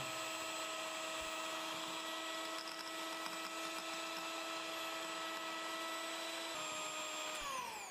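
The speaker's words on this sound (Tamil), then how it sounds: "ஒரு 3-4 நிமிஷம் இதை நல்லா கலக்கணும்." An electric mixer whirring through a homemade vanilla ice cream mixture, a steady high-pitched motor whine with a slight pitch drop near the end, continuous and alone without speech.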